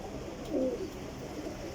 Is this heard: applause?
no